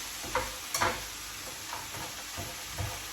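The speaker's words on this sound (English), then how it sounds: "we're going to mix this around for about 5 minutes. So we'll give it 5 minutes, just stirring it around," Frozen mixed vegetables sizzle gently in a frying pan as they are stirred, with soft scrapes and knocks of the utensil at irregular intervals over a steady hiss.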